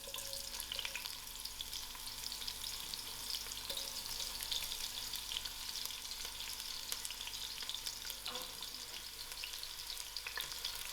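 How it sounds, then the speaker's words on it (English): Onions frying in oil in a pot over moderate heat, a continuous dense crackling sizzle throughout with occasional small stirring knocks; no voices. "I'll allow these onions to fry."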